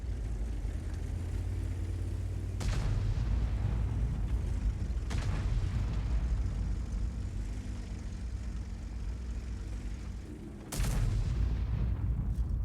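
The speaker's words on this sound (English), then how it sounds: "Got all three Artys firing from the same area" Artillery firing in a tank video game: three heavy booming shots spaced several seconds apart over a constant engine rumble.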